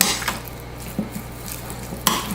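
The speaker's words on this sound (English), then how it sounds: "Let's give it a nice little mix." Seasoned chicken pieces, salted and peppered, tossed by hand in a bowl: a few soft, brief squishes and clinks spaced about a second apart, fairly close and quiet, with no talking.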